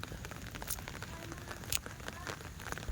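Rain falling outdoors, a steady crackling patter of drops on surfaces with a few sharper nearby splats, moderately loud and continuous with no talking.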